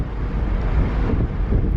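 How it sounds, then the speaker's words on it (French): Strong wind roars across a ferry deck near Belfast, Northern Ireland, a loud, continuous rumbling buffet on the microphone with no voices. "il y a beaucoup de vent"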